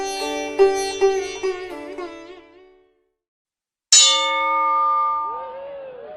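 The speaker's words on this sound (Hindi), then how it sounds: "टन से घंटी बजी" Bell strikes used as a sound effect in a Hindi-Urdu radio comedy drama: a series of bright ringing dings that decay away, a pause of silence, then one more loud clang with a long shimmering tail.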